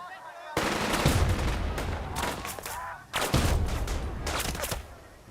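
Gunfire in the World War II strategy game Burden of Command at Palma di Montechiaro: two loud bursts of rapid rifle and machine-gun fire, each starting abruptly and crackling on for a couple of seconds.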